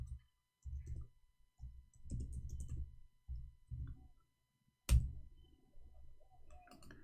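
Clicking keystrokes on a computer keyboard come in short bursts of quick taps separated by pauses, close and fairly quiet, with one sharp louder click partway through.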